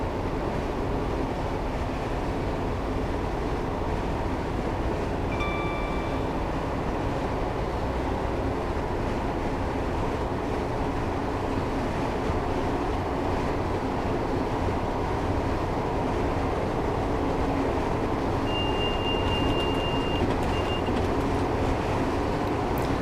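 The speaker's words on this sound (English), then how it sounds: "I've now shut off the power at 65 miles per hour just to allow the train to coast." A Class 158 diesel multiple unit coasting with power shut off at about 65 mph in Train Simulator 2018 on the Cardiff to Bristol route, giving a steady, loud rumble of wheels on rail with brief faint tonal whines.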